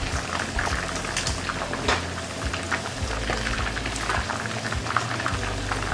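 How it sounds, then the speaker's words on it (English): Seafood stew broth at a steady rolling boil in a pot, with dense bubbling and popping that runs continuously at close range with no voices. "So it's come to a boil."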